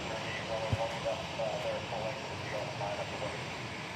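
Jet airliner engines roar steadily at DFW Airport, a broad continuous rumble heard from a distance with no clear rise or fade, while a voice speaks over it.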